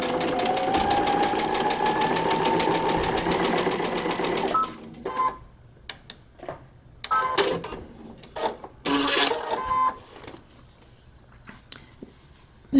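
Sewing machine stitching through a paper-pieced quilt block, a steady fast mechanical whir for about five seconds, then short bursts of stitching broken by pauses and small handling clicks, close and fairly loud.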